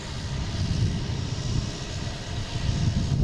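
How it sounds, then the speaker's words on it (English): A steady, loud roar from the engines of a JetBlue Airbus A220 at Boston Logan International Airport, a continuous low rumble holding at even strength throughout. "We have a JetBlue heading to Reagan, A220."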